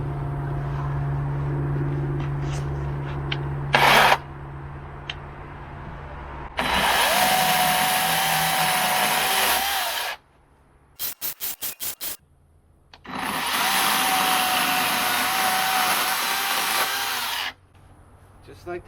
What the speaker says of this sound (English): It's a great saw.